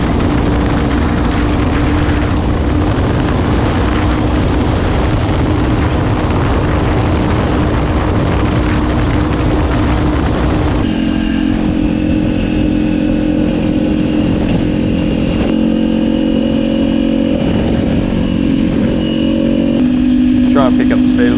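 A motorcycle rides along winding roads in Australia, its engine droning loudly and continuously with wind noise, shifting in pitch as it changes speed, while a rider talks over it.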